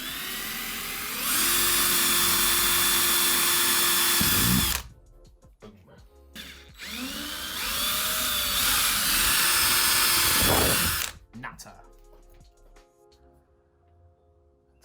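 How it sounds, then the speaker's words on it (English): A power drill whines loudly in two long bursts, drilling holes in new car windows, each several seconds, with short quiet gaps and a brief voice between them. "Let's drill holes in them."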